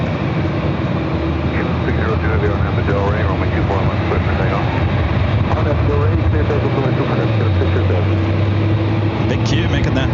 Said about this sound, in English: the United Dreamliner also heading up for a north side of takeoff